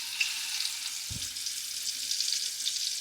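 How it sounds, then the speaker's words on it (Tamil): Jackfruit rind pieces deep frying in hot oil for a mixture snack, giving a steady, close sizzle throughout with a brief low thump partway through. "ஸ்டெப் வந்து அந்த வைக்கோலை வந்து பொரிக்கிறாங்க"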